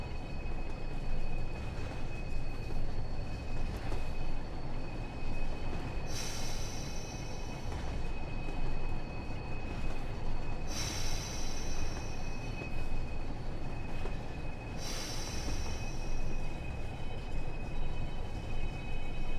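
A train running on the West Somerset Railway in Train Sim World 4, with a steady loud rumble of wheels on rails throughout and three brief high squeals or hisses spaced several seconds apart.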